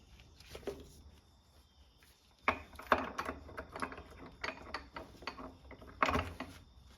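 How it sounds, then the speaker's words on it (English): A gear being set into mesh with the reverse gear while a Getrag 260 gearbox is reassembled: a few sharp metallic clicks and clanks, close and fairly quiet, with a louder knock near the end. "set the gear in, mesh it up with the reverse gear"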